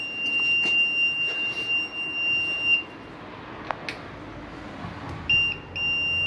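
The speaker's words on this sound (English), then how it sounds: "with my continuity tester," An electrician's continuity tester beeps on cut cables, giving a few short, thin electronic tones in bursts separated by pauses, fairly faint against a quiet room with light handling noise.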